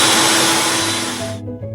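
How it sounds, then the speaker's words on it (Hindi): A bullet-style mixer grinder whirs steadily while blending mint chutney, a loud continuous motor drone that cuts off abruptly near the end, leaving a faint hum. "और ये है यहाँ का बुलेट वाला मिक्सी।"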